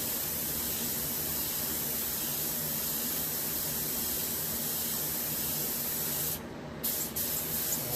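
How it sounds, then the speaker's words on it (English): Airbrush or spray gun misting paint with a light flow of air onto an all-paint tumbler, a steady close hiss running continuously, with a brief pause near the end before spraying resumes. "Again, just spraying with a little bit of air."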